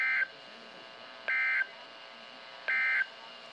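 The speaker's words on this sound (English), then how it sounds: "This concludes this test of the Noaa weather radio tone and same alert system." NOAA weather radio SAME alert tones during a required weekly test, three identical loud bursts of harsh digital data tones, each about a third of a second, evenly spaced over a faint background hum.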